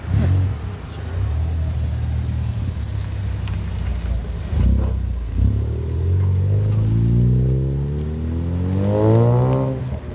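Cars pulling away one after another from a Café Soupapes car meet at La Brède, with engines rumbling and revving as they pass and a rising, accelerating whine near the end.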